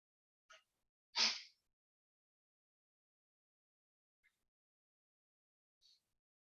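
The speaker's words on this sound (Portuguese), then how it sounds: "que espirro doido" A single sharp sneeze bursts out after a faint preceding breath, followed by near silence with a couple of tiny quiet noises, in an otherwise still room.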